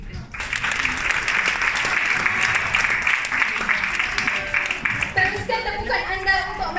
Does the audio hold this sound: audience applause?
yes